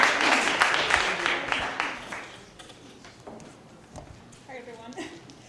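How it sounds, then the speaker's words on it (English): An audience claps for a nurse speaker, a dense burst of applause that tapers quickly, followed by a few scattered sounds and a voice near the end. "So give them a big round of applause."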